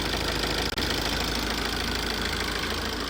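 Tata diesel car with a replaced control box, woken up after sitting parked for a long time. The engine runs at a steady rough idle, loud and close, with a brief dip near the start.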